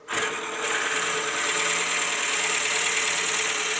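A lathe spinning at 500 RPM as a Forstner bit drills into wood for a pepper mill, a steady loud whirring machine hum with a bright grinding edge that holds level throughout.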